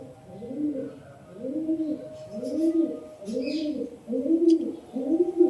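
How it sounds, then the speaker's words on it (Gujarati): Pigeons coo around a well below a 500-year-old hilltop temple in Devaliya village, with soft rhythmic coos repeating about once a second, close and clear in an otherwise quiet setting. "એકદમ શાંતિ છે ખાલી કબૂતરનો અવાજ આવે છે"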